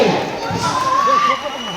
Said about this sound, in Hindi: तालियां जोरदार बजती रहनी चाहिए